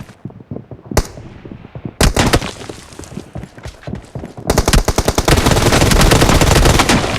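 Rapid automatic gunfire in the BGMI/PUBG battle royale game, loud close bursts of rattling shots separated by short gaps, building into a sustained dense volley near the end with no talking.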